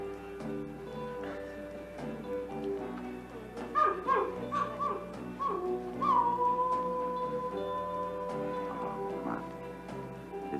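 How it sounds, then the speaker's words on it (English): An old dog howling in the distance, a few faint wavering howls and whimpers rising and falling over a quiet, hollow background. "It's just an old mutt howling."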